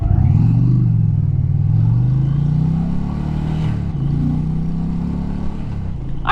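An Indian Challenger motorcycle rumbles on a test ride with a loud, low engine drone. The revs rise and fall gently, there is a dip and a shift near the middle, and wind noise runs underneath. No speech is heard.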